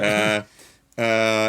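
Clean, bright electric guitar chords ring out, pause briefly, then strum again, with no distortion and no voices; played without the MXR Duke of Tone overdrive pedal.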